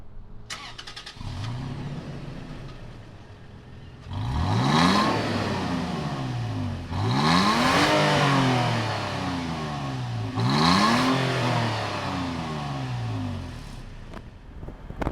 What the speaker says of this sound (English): fire up this V6 and see what it sounds like.